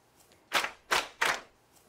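Three sharp claps from a group, evenly spaced and fairly loud, with quiet pauses around them.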